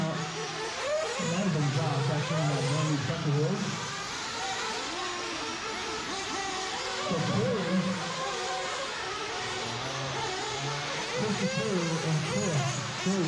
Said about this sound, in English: The 2nd and 3rd place trucks are just going down the front stretch